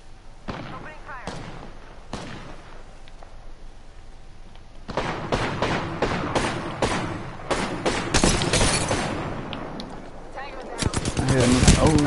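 Rapid bursts of gunfire from an Apex Legends firefight, with scattered shots early that build into dense, loud volleys and a final fast automatic spray, while a player talks over the action.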